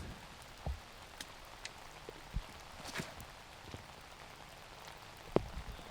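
Soft rain patters steadily on a quiet disc golf course, with a few scattered drops tapping more distinctly now and then.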